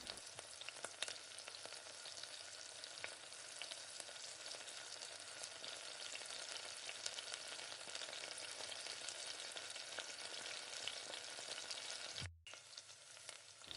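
Black urad dal fries in hot oil with a steady, dense crackling sizzle that carries on throughout, cutting off abruptly near the end before resuming briefly.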